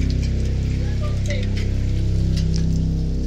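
Hail falls outside during a hailstorm, a loud dense rattling patter with a steady low rumble beneath, continuous and close for a few seconds with no speech.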